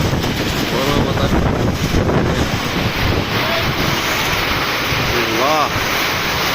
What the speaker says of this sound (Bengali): দেখেন কি পরিমাণ বাতাস, কি পরিমাণ ঝড় বইতেছে।